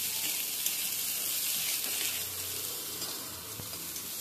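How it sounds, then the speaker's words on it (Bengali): Onions and onion greens frying in a pan for a snail curry, a steady close hiss of sizzling oil throughout with faint stirring. "এগুলো দিয়ে বেশ কয়েকবার এইভাবে নেড়ে নেব, একটু হালকা করে ভেজে নিচ্ছি"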